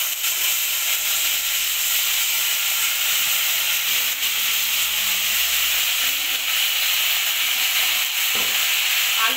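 Potatoes hit hot oil in a home kitchen pan with garlic and chili, giving a loud continuous sizzle and hiss with faint stirring scrapes underneath.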